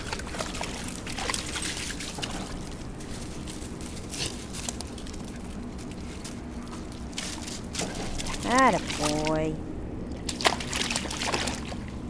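A dog wades into water at the edge of a pond or lake, making soft sloshing and trickling splashes under steady background noise while a person speaks briefly.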